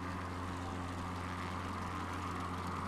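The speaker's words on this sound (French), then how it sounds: "Il y en a encore qui décollent." Aircraft engine droning steadily during takeoff in Microsoft Flight Simulator, a continuous loud hum with a low tonal buzz and no talking.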